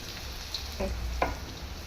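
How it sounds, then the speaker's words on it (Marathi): Chopped onion hitting a hot pan with garlic, ginger and green chillies for veg Hakka noodles: a faint steady sizzle with two brief soft clinks, no talking. "आता इथे कांदा टाकणार आहे,"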